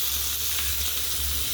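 Fish frying in a pan of oil, a steady close sizzle with a low hum beneath it, continuous and even with no voices.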